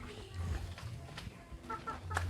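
Chickens cluck and fuss intermittently nearby, with soft low calls and a few sharper bursts, fairly quiet against background noise.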